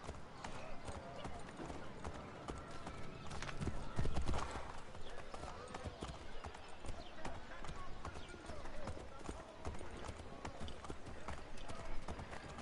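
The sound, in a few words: horse hooves in a video game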